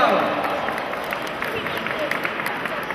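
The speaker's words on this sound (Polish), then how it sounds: "Wielkie, wielkie, wielkie brawa." Audience applause at a charity auction in Duczki, a steady wash of clapping with some crowd noise, loud and continuous from start to finish.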